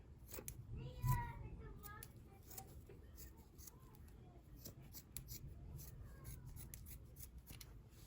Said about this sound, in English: So I'm going to cut the pocket off.